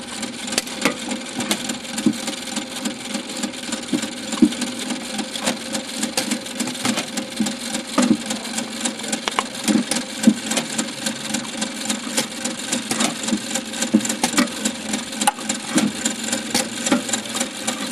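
An Exhibit Supply Photoscope, a coin-operated card viewer, runs its mechanism with a steady mechanical whirring hum and regular faint clicks and clacks, close and unbroken, with no one talking.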